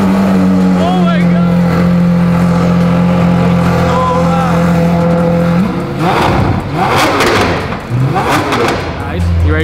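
A Lamborghini Aventador SV with a newly fitted Fi exhaust idles with a steady, loud drone, then revs hard in several rising and falling sweeps with crackling.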